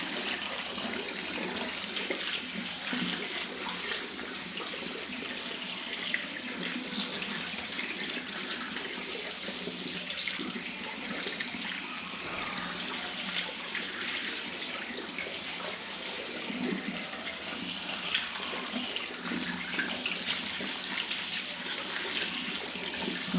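Rice being rinsed by hand under a running kitchen tap, ahead of soaking for a Hyderabadi chicken dum biryani; steady, close water flow splashing through the grains for the whole stretch, with no talking.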